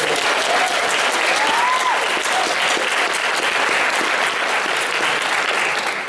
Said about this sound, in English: Give yourself a huge hand of applause.